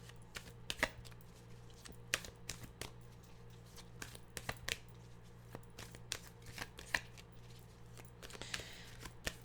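Tarot cards are shuffled in repeated crisp riffles and flutters, close and fairly quiet, with sharp snaps at an uneven rhythm throughout and no talk.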